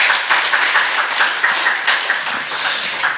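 Church congregation clapping together after a Sunday morning service, a dense steady patter of many hands at close range that stays even from start to finish.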